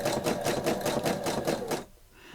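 Domestic sewing machine stitching zigzag across appliqué fabric laid on hessian, a steady rapid mechanical chatter of needle strokes for almost two seconds that stops abruptly, leaving only quiet room tone.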